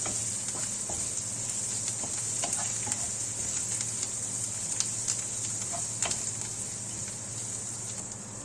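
Onions frying in a pan with a pinch of turmeric for Telugu buttermilk rasam, giving a steady close sizzle with scattered light clicks and stirring scrapes throughout.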